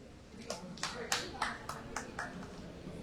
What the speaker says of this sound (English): Can we please have a round of applause for all the award winners?